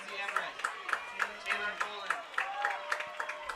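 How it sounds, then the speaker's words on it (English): Spectators applaud with steady rhythmic claps for runners passing at an outdoor high school conference track and field meet, fairly faint and distant, with an announcer talking over it. "a round of applause for the groups coming through"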